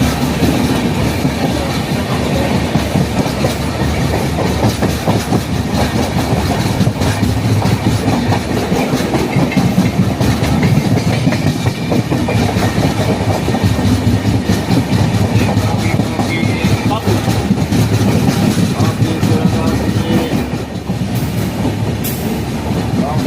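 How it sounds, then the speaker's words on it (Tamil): A loud, steady rumble of the Pallavan Superfast Express rolling along the rails as it enters Tambaram station, with continuous clattering wheels and no voices throughout. "இப்போ நம்ம தாம்பரம் ரயில் நிலையத்துக்குள்ளே என்ட்ரு ஆகிட்டு இருக்கிறோம்."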